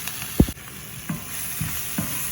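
Masala spices fry in a pan for chicken butter masala, with a steady sizzle under a few sharp scrapes of a spoon, one loud knock near the start then lighter stirring strokes spaced apart.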